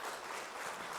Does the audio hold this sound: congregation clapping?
yes